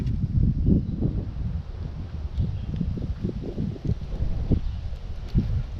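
Wind blows outdoors, a continuous low gusting rumble buffeting the microphone with no talking.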